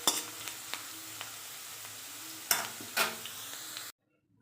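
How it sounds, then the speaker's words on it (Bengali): Potatoes fry in a kadai, giving a continuous close sizzle with sharp stirring clicks and scrapes, before cutting off abruptly near the end. "ওখানে কড়াতে আলু ভাজা হচ্ছে"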